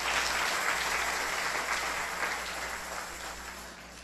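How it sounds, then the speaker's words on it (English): A church congregation claps during a service, a fairly quiet, steady patter of many hands that fades slightly toward the end, heard from some distance with no speech. "So give them another round of applause,"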